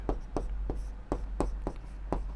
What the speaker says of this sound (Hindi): तो लिखेंगे यूक्लिड विभाजन